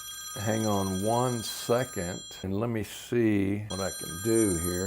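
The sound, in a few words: telephone ringing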